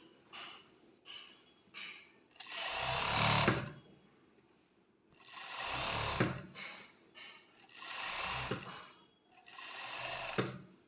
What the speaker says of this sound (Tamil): ஓவர்லாக் போட்டுட்டோம். ஃபினிஷிங் சூப்பராக இருக்குது.